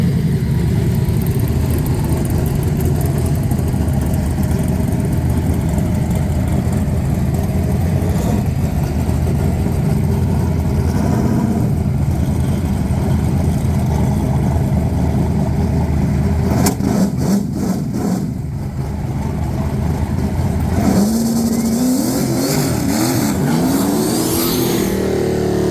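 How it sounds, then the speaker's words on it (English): Turbocharged big block Plymouth Duster drag car, a loud rough idle and engine drone that builds into revving, with a sputtering stretch and then rising revs near the end, no talking. "the car coughed in the burnout"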